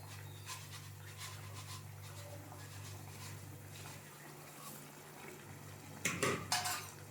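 Vermicelli for semiya is stirred in a cooking pot. Under a faint steady hum, a few sharp utensil clinks and scrapes ring out close together near the end.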